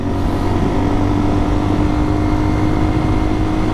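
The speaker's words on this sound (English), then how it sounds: "the engine is making a noise" A motorcycle's steady, loud engine drone with a constant low hum and pitch, running continuously at about 80 km/h cruising speed, with wind rush underneath.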